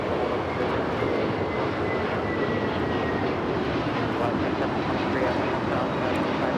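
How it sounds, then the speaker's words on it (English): Spirit Airlines Airbus A321neo taking off from Los Angeles LAX bound for Baltimore: a broad, moderately distant jet rumble that holds steady throughout, with no talk over it. "This is Spirit Airlines 2597 taking off to Baltimore on the A321neo"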